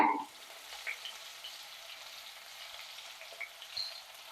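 Shallots, two dried red chilies and curry leaves fry in hot oil for a tamarind curry. A soft, steady sizzle runs close throughout, with a brief louder crackle as the ingredients go in.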